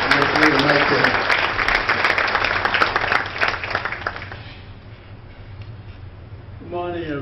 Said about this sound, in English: give a round of applause to Paul Red Sullivan